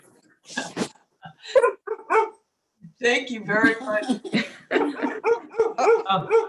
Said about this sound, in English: I like the dog barking.